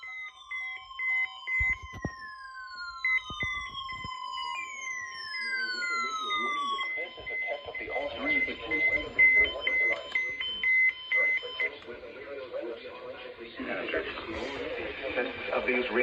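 A Jensen radio sounds a NOAA weekly test alert, with falling siren-like sweeps and steady electronic tones over several seconds, then a broadcast voice follows faintly through the speaker.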